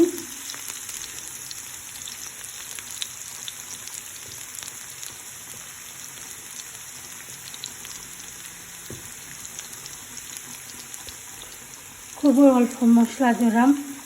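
Chickpeas frying in a pan with a little curry powder and spices, a steady soft sizzle running throughout, with a short burst of speech near the end.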